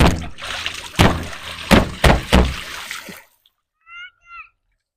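Water bubbles and gurgles around a flashlight and a Glock pistol held underwater, in several close bursts. The bubbling then stops into near silence, leaving only a few faint high chirps.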